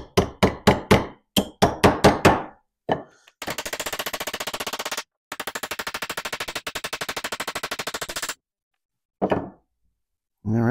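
A hammer striking, first in quick bursts of sharp metallic blows, then long rapid runs of dense repeated hits, loud and close, followed by a few more isolated knocks.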